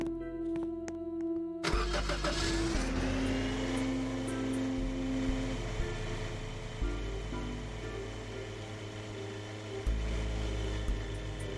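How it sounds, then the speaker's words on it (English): A car engine cranks and catches after a short pause, then settles into a steady running hum with gear and road noise as the vehicle drives off, set in a survival video game, alone without talk. "I hop in my car and drive back over to the boulders"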